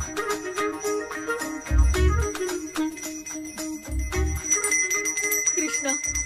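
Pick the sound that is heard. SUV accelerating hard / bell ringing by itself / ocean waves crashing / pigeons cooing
bell ringing by itself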